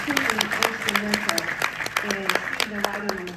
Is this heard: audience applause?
yes